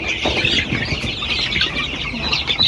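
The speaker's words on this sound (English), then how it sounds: "Hey, these chicks." Chicks in a village coop bedded with fresh sawdust, peeping in a dense continuous chorus, close and fairly loud, with no voices.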